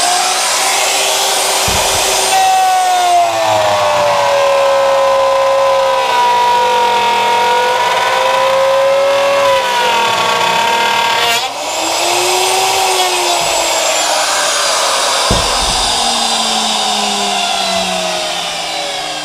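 A handheld Milwaukee router spins up with a soft start to a high whine, then bogs slightly as it cuts a pass through wood, loud and close, the pitch dipping and recovering.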